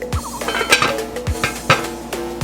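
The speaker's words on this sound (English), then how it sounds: "So go ahead and cover this over" A lid is set onto a pot of Jamaican curry chicken on the stove, with sharp metallic clinks and clatters of cookware recurring several times amid kitchen stirring sounds.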